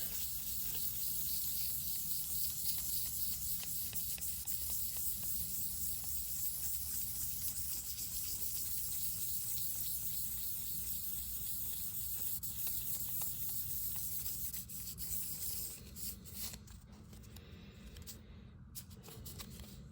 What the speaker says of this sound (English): Got my 1000 grit sandpaper. I'll just do a rough little bit of a cleaning here.